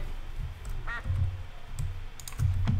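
Cartoonish duck quacks from a wildlife park management video game, a few short calls over game music and clicks at moderate level, with no talking.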